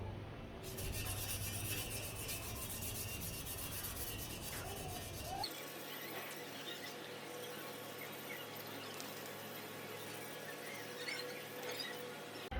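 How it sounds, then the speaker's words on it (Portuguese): Steady abrasive rubbing and rasping of 600-grit sandpaper against a motorcycle wheel, continuous and close, with a harsher hiss in the first half. "já fizemos o lixamento com a lixa 600 já"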